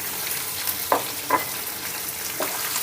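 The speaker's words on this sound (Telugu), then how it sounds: "ఈ జీడిపప్పు ఈ పచ్చిమిర్చిని వేపుకుందాం" Cashews and green chillies fry in hot oil for lemon rice. A steady close sizzle is broken by a few soft stirring scrapes, with no talking.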